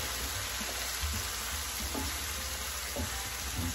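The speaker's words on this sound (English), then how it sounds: "add just a little bit, probably half a teaspoon, maybe about a teaspoon of minced garlic to the pan" About a teaspoon of minced garlic frying in a pan for chicken fettuccine Alfredo, a steady close hiss of sizzling oil with a few faint clinks of stirring, no talk.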